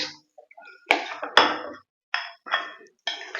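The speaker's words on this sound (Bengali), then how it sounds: "এরপর ভালো করে মিক্স করে নেব নুন দই আর রাইস" A spoon scrapes and clinks against a metal bowl while salt, curd and rice are mixed together, in several short separate bursts with two sharp knocks near the start and quiet gaps between.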